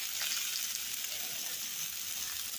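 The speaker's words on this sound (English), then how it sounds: "I'm just gonna let it cook on top of those peppers for a minute" Shrimp sizzle steadily in a pan on top of cooked peppers, a constant close hiss of frying with no pauses or talk.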